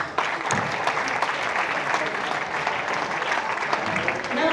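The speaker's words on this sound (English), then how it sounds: "A big applause for Team Poland." Audience applause at a youth championship opening ceremony in Tilburg, Netherlands, as a national team is introduced, steady and dense throughout, with crowd noise mixed in and a faint voice now and then.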